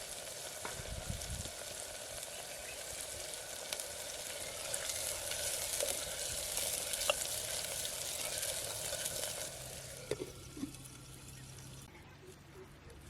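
Fresh fenugreek leaves and onion fry in a pan for a village-style vegetable dish, a steady close sizzle with stirring, a few light clinks near the end and faint voices in the background.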